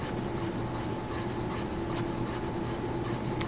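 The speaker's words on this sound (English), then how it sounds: "just take it and roll it around to a clean side, and then scrub that area" A cotton-tipped applicator scrubbing the surface of a strain gage beam, a steady, close, continuous rubbing and rasping with fast back-and-forth strokes and no talking.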